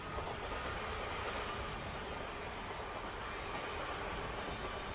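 A train runs steadily in the anime Serial Experiments Lain, a constant broadband rumble and rattle of rail cars holding an even level throughout, with no talk.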